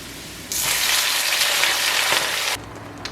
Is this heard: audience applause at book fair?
no